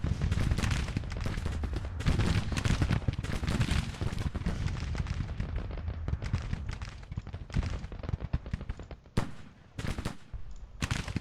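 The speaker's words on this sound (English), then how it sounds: "Artillery is up and firing." Artillery and massed gunfire in a Civil War strategy game set in the 1862 Confederate spring offensive, a dense continuous rattle of shots with sharp louder booms near the end.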